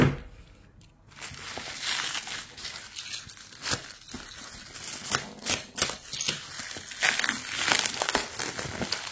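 Crinkling and crumpling of packing material as a tightly wrapped parcel is opened, with irregular rustles, tears and crunches continuing close by throughout, no talking.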